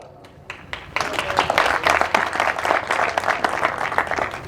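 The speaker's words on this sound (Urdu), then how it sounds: "آپ کی تالیوں کا مجھے تو مزہ نہیں آ رہا" An audience at a municipal political convention in Doltala breaks into applause after a few scattered claps, a dense, loud burst of clapping that swells and carries on throughout.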